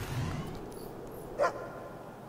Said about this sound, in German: der Hund hat einen Schatz entdeckt